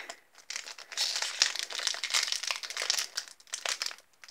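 A trading card booster pack from a display box is crinkled and torn open close up, with irregular bursts of crackling plastic wrapper handled by hand and no talking.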